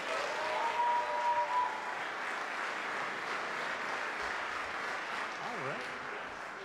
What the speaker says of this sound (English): So a big round of applause for Kevin Lindlau.